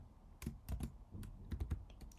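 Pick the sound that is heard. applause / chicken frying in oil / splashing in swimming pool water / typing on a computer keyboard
typing on a computer keyboard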